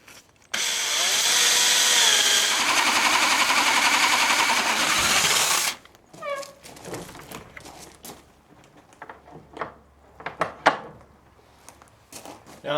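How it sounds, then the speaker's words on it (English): A power drill fitted with a paddle bit bores through wood during a tractor barn build, a loud steady whine for about five seconds that drops in pitch as it loads, then stops, followed by scattered knocks and rustling. "I'm going to use a paddle bit here."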